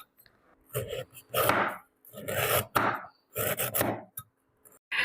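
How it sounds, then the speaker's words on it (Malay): Lemongrass, ginger and galangal being sliced thinly with a knife on a board, several rhythmic bursts of close chopping separated by short pauses. "Serai, halia dan juga lengkuas kita potong nipis-nipis."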